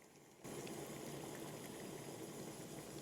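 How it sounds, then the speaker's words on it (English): A steady, dense bubbling roar of a pot of water at a rolling boil, constant and fairly close, starting abruptly after a brief quieter moment. "With a pot of hot boiling water,"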